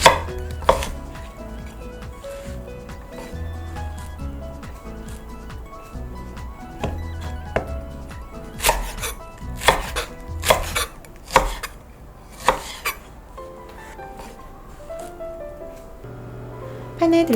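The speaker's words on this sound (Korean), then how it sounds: "양파 그리고 대파도 먹기 좋은 크기로 썰어줍니다." A knife chops onion and green onion steadily on a cutting board, rapid rhythmic thuds that speed into dense bursts, close and fairly loud.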